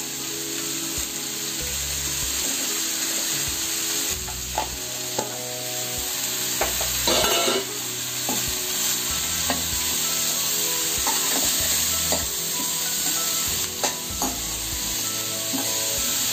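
Sliced val beans and potatoes sauté in a hot pan as vegetable curry, with a loud, steady sizzle throughout. Spatula stirs and scrapes occasionally cut through the sizzle, along with a faint background hum.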